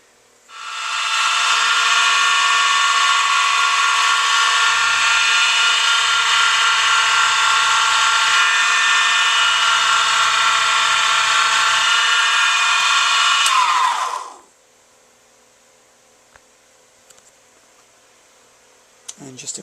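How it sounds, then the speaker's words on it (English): A drill bores a zero-reference hole during a table fabrication build, a loud steady high-pitched whine lasting about thirteen seconds before winding down, followed by quiet room noise. "So I'll drill this hole here as my 0 reference."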